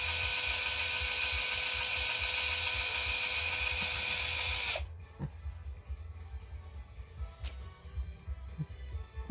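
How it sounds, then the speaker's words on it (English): A cordless power drill with a weak, nearly flat battery whirs at a steady, strained pitch for about five seconds and then stops, leaving quiet background with faint clicks. "the battery's going a bit flat on this drill, so it's not spinning at full speed"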